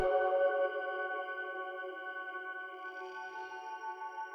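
An ambient sample accent made in FL Studio with heavy reverb and delay sounds as a sustained, smooth tonal chord that starts bright and slowly thins out, heard alone.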